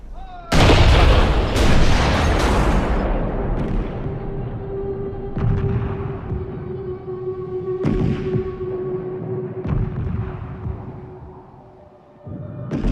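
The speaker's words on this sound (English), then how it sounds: "they must bring in their huge Krupp cannons that fire 1-ton shells" Heavy artillery from huge Krupp cannons firing 1-ton shells booms out loudly, a massive blast followed by rumbling echoes and further thuds that slowly fade.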